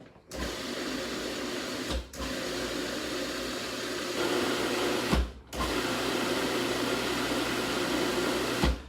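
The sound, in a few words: pasta machine running with garlic scape dough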